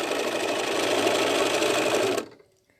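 A sewing machine doing free motion quilting on fabric runs at a constant fast speed with a dense, steady mechanical whir, close and loud, then stops abruptly near the end.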